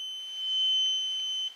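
An electrical tester beeps continuously while checking a bedside lamp, a steady high-pitched tone held for about a second and a half before it stops, close and clear with no talk.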